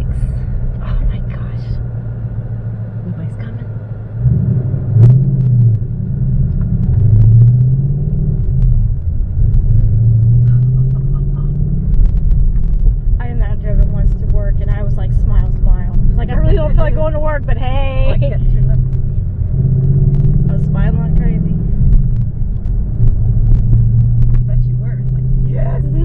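A Ford Mustang GT's engine rumbles in a steady low drone while the car is driven, with people talking over it throughout.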